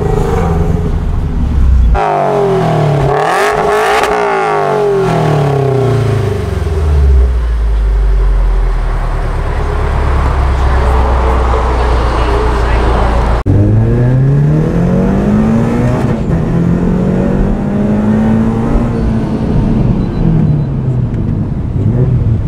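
A supercharged Toyota GT86 at an owners' meet revs hard through repeated throttle blips and sweeping acceleration, engine pitch rising and falling loudly up close with no talk.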